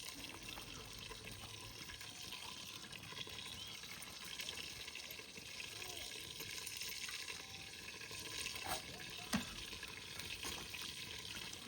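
Water pours into a pot of brinjal curry cooking over a wood-fired chulha, making a soft, continuous trickling wash that stays faint and even from start to finish.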